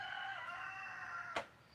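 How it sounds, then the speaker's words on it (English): A single rooster crows in a drawn-out, clear call at moderate distance, followed by a brief sharp knock near the end. "They cock-a-doodle-doo all day long."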